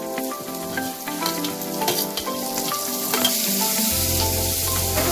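Green onions and chillies sauté in hot oil in a home kitchen, a loud, close sizzle with stirring clatter, the crackle thickening and growing steadier toward the end.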